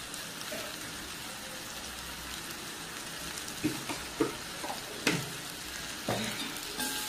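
Ridge gourd chutney being stirred in a pan after salt and peanut powder are added, a soft steady scraping and faint sizzle with a few louder spoon knocks toward the end, no voices.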